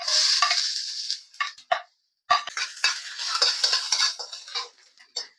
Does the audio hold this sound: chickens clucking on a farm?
no